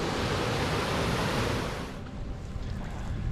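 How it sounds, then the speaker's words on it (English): Waterfall on a Snowdonia mountain trail, a steady broadband rushing roar filling the first two seconds, then easing to a softer, more distant wash. "Oh look, another blooming waterfall."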